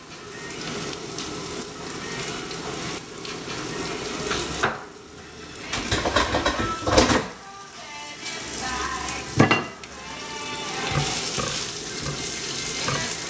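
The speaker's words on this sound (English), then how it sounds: "Yeah, that sizzle." Steady crackling sizzle of a veggie burger frying in grapeseed oil in a hot pan, with scraping and clattering of utensils in between.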